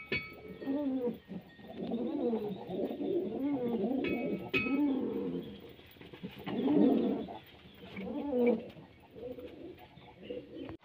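A female pigeon coos repeatedly at her nest, the low throaty calls rolling in close, overlapping phrases with brief gaps and a couple of faint higher chirps.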